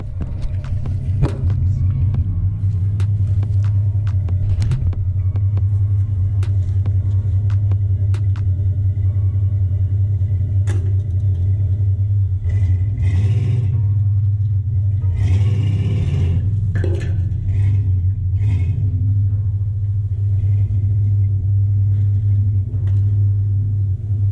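A Ford Bronco engine idles with a loud, steady low rumble, close by, with a few brief revs and mechanical clatter rising over the drone partway through.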